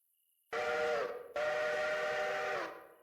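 A steam locomotive whistle in the Railroader video game sounds two loud, sustained tonal blasts, the first about half a second long and the second longer before it fades out.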